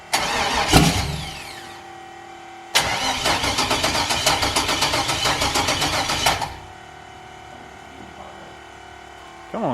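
A junkyard LS V8 in an S10 drag truck cranks and fires up, running a few seconds at a loud, rough, pulsing idle before cutting off, with people talking nearby.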